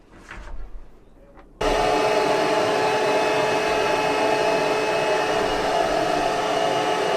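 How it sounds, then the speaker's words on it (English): A Hoover vacuum cleaner switches on abruptly after a brief quiet moment, then runs as a loud, steady motor whine and airflow drone that holds unchanged to the end. "Here we have the hoover."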